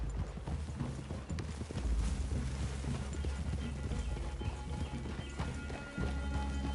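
Horses in the Red Dead Redemption 2 video game clop along steadily in a quiet outdoor scene, with hooves and tack rattling alone throughout.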